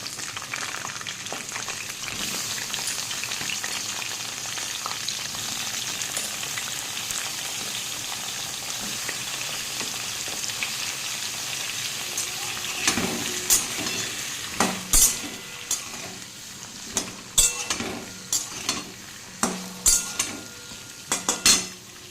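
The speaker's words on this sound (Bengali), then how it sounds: "কালো জিরেটা হালকা ভাজা ভাজা হয়ে গেলে আমি ডাঁটা আলুটা দিয়ে দেবো।" Drumsticks and potatoes fry in oil after a nigella seed tempering, a constant hiss of frying under a series of distinct clinking, scraping stirs toward the end, close by and free of talk.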